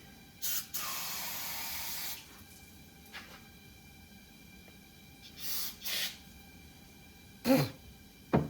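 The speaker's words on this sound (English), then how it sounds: "I just wore a bunch of brake clean." Brake cleaner hisses from an aerosol can onto an old Cub Cadet lawn tractor in several close bursts, one long and several short, with quiet gaps between them.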